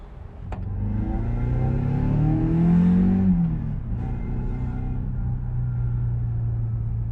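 A Mazda Miata with a newly swapped rear differential pulling away, its engine rising in a steady rumbling rev, then settling into a constant cruising drone, heard from inside the car.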